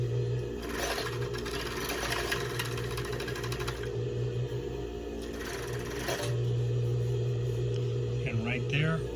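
Willcox & Gibbs 500 overlock sewing machine stitching stretch fabric, a steady close mechanical whir that rises and falls in speed, with a person talking over it.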